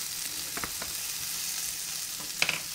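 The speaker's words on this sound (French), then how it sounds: "Donc là, je vais remuer de temps en temps" Butternut squash cooking in a covered pot, with a soft steady sizzle and a few brief scraping stirs of a utensil, one sharper clink near the end, fairly quiet and without speech.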